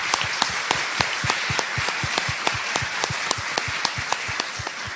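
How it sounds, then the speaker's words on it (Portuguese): Audience applause for a commission at the Fiocruz academic year opening lecture, a dense steady wash of many hands clapping with some sharp individual claps standing out, loud and continuous throughout. "eu queria uma salva de palmas aí para a comissão"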